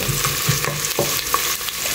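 Onions frying in a hot pan, a loud close sizzle with rhythmic scraping and tapping as they are stirred, continuous throughout and with nobody talking.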